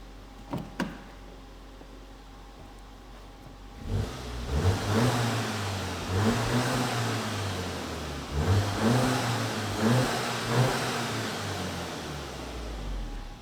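Mk7.5 Golf GTI engine with its standard backbox idles, then is revved several times in a row, each rev swelling and dropping back, heard from outside the car at moderate distance.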